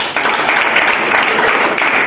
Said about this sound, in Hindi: इन लोग के लिए जबरदस्त ताली मारिए